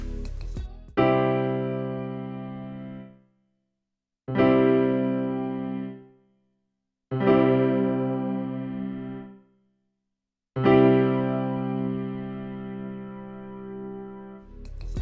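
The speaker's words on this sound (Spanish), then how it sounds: "El efecto Chorus, que es una especie de desafinación controlada del sonido, nos ofrece cuatro niveles diferentes" A Casio digital piano voice with the Chorus effect set to level 1 through the Chordana Play app sounds four sustained, harmonically rich notes or chords, each swelling then decaying, separated by short silences.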